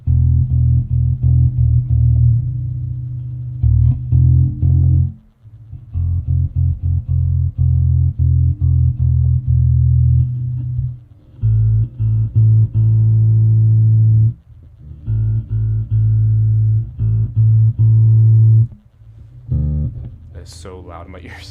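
Bass guitar being tuned through an effects rig, single sustained low notes plucked and left ringing, repeated in separate bursts with short gaps, loud and close with no talking.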